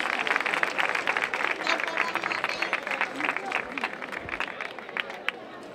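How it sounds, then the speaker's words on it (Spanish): Applause from a carnival presentation audience in Tarifa, a steady patter of many hands at moderate distance, with crowd chatter and voices mixed underneath and tapering slightly toward the end. "¡Un aplauso!"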